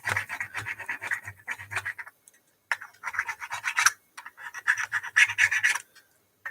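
Metal scraping and rasping on an RTX 2080 Super graphics card heatsink, heard as bursts of repeated gritty strokes close up, separated by short pauses.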